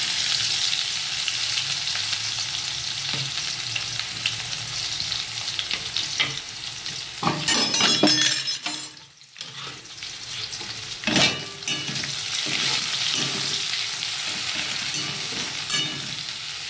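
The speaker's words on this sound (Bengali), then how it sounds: "পেঁয়াজটা একটু লাল লাল করে ভাজা হয়ে যাবে" Chopped onion frying in oil in a pan while cooking fish kalia: a steady, loud, close sizzle throughout, broken midway by a brief stirring clatter before the hiss resumes.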